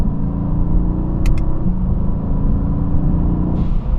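Steady, enveloping cabin rumble of a Mercedes-AMG GT S V8 soft-top cruising above highway speed, engine drone and road noise continuous, with a pair of quick ticks early and a slight shift in tone near the end.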